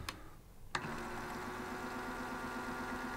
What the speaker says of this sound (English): for a reference how the grinder sounds without grinding coffee beans, I'm gonna turn it right now at the lowest RPM.